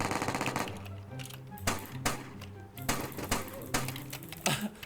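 Rapid bursts of gunfire in a Free Fire-style Roblox shooter, loud and close, crackling in quick clusters with short gaps between volleys over busy game noise.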